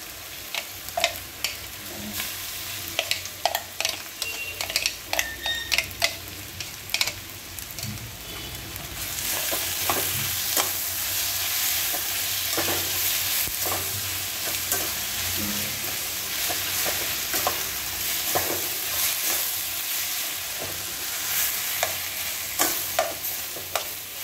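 Beetroot and potato frying with onions in a pan, a steady close sizzle with repeated scraping stir strokes, the frying hiss growing denser and louder partway through.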